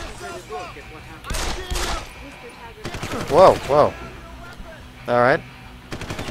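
Bursts of enemy gunfire in Deus Ex: Human Revolution, loud rattling volleys spaced across the scene, mixed with someone speaking briefly between the shots.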